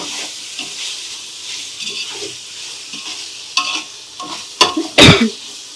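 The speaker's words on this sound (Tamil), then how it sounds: "இப்போ தான் தக்காளி நல்லா உடஞ்சி வதங்கும்" Tomatoes fry in oil with rock salt while a spoon stirs them, giving a steady sizzle with scraping strokes that grow louder and sharper toward the end.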